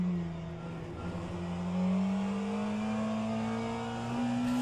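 GT3 race car engines in the rFactor 2 racing game drone steadily with a rising, sustained tone, heard alone at moderate level without talk.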